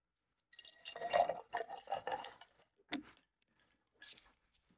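Cranberry juice pours from a large jug into a Crown Peach mixed drink in a glass, making a few close gurgling splashes and pouring bursts with short pauses between them.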